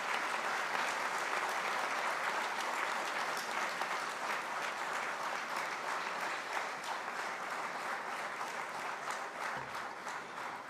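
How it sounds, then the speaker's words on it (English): Audience at a conclave opening event applauds steadily, a dense, even clatter of many hands that holds for about ten seconds at moderate distance. "A big applause for her."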